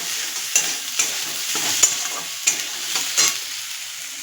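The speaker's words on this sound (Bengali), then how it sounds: "সবজির সঙ্গে হলুদটা ভাজা ভাজা হয়ে গেলে গন্ধ ছাড়বে না" Vegetables frying with turmeric in a pan, a constant close sizzle broken by regular scraping strokes of a spatula stirring about twice a second.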